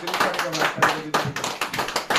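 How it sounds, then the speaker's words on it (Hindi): A small group claps along at a birthday celebration held at a workplace, quick uneven handclaps in a loud close burst lasting a couple of seconds, with no voices over it. "ताली मारिए"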